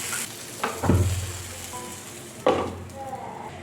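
Ivy gourd frying in a pan on a stove, a soft steady sizzle close by, broken twice by brief stirring scrapes of a utensil, with no talking.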